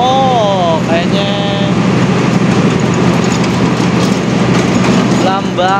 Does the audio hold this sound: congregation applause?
no